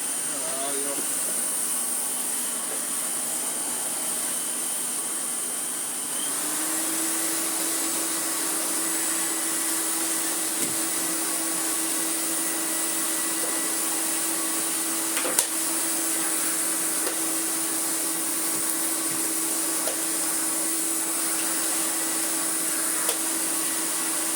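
A restored 1985 Electrolux Z327 Sup'Air vacuum cleaner runs on a hard floor with a steady, loud airflow roar and whine. It shifts pitch slightly early on and then holds constant, with a voice talking over it.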